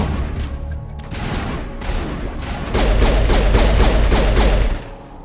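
Rapid gunfire in Mass Effect Legendary Edition, bursts of shots building into a dense, loud sustained volley before cutting off abruptly near the end.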